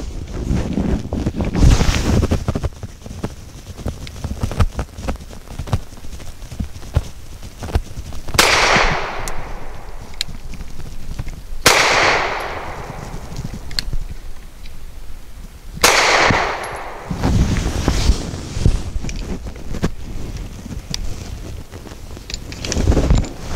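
A Grand Power P1D pistol fires Archon 124-grain black nickel-plated hollow point rounds outdoors: several loud, sharp shots spaced seconds apart, each trailing off into echo, with wind buffeting the microphone throughout.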